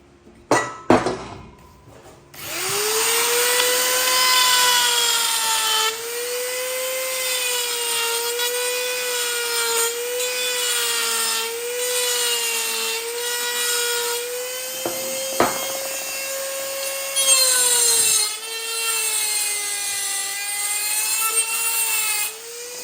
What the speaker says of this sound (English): So I'm gonna come through and grind all the top of this out.